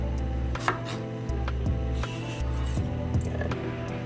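A knife chops red onions into a fine mince on a cutting board, with rapid, steady, close taps repeating throughout and no talking.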